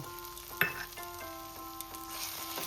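Green peas and spices fry quietly in a pan with a soft, steady sizzle, broken by a few clinks from stirring.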